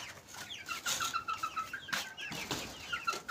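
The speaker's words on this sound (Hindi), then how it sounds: "जो नए वाले चूजे हैं ना वो बहुत लड़ते हैं।" Young chicks peeping and clucking close by, a string of shrill high chirps mixed with scuffling and wing flutters as they squabble, fairly quiet with no talking.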